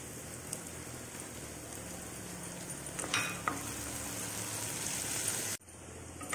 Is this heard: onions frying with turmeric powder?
yes